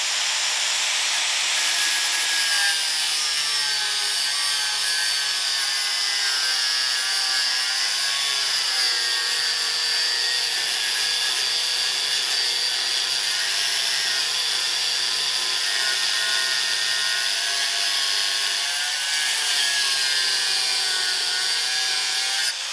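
An angle grinder cuts a metal piece clamped in a vice, giving a loud, unbroken high-pitched whine with a grinding hiss. It holds steady, shifting only slightly in pitch, and no voices are heard.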